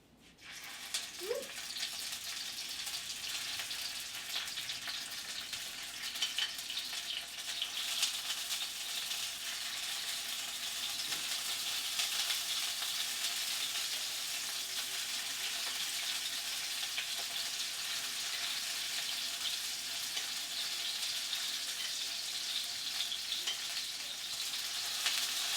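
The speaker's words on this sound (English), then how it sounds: "So you can hear a nice sizzle there." Steady, even sizzling of gnocchi frying in a hot pan, a constant crackling hiss that continues without a break and has no talking over it.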